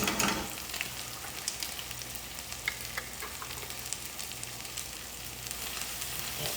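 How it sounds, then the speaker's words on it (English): Minced garlic frying in a pan alongside browned chicken, a steady close sizzle with small crackling pops throughout. "Now I'm going to add a teaspoon of minced garlic."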